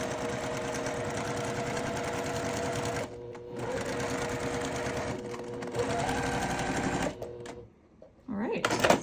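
A sewing machine runs in quick bursts while curved quilt blocks are sewn, a close, rapid rhythmic chatter that stops briefly several times before starting again.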